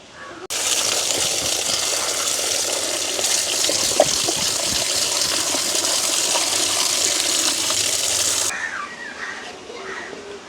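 Vegetables being washed under running water in a village kitchen, a steady splashing stream from a tap that starts abruptly, runs several seconds and then stops, with light handling sounds.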